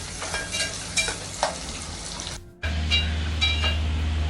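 Onion sizzles steadily in hot oil while frying until brown for a traditional dal palak, a continuous close crackle with a brief drop and then louder, fuller frying.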